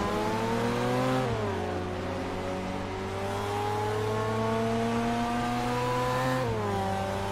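Racing game cars roar close by with a loud, steady engine whine that climbs through the gears, dropping in pitch at two upshifts before rising again.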